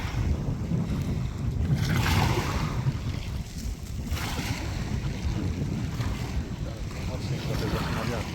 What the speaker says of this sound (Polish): No zaczyna wiać porządnie, ale wieje od tamtej strony, czyli wieje od Biokowo.